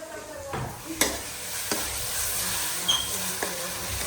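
Dal fry cooking in a pan, with a continuous bright sizzle and repeated scrapes and taps of a spoon stirring it, several sharper knocks spaced through; no voices.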